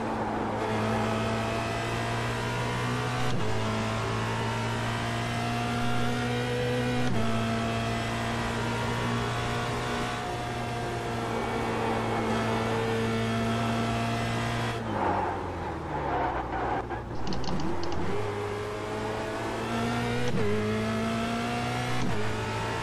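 A Formula Renault 2.0 race car engine in the iRacing sim drones loudly and steadily with strong harmonics, the pitch shifting with gear changes and dipping as the car slows briefly before climbing again.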